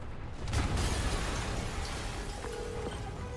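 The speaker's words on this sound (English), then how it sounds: "an explosion just..." A game explosion from Spider-Man on PS4 sounds as a loud broadband burst near the half-second mark, followed by a sustained rumbling roar and a brief tonal mechanical whine later on, with no speech.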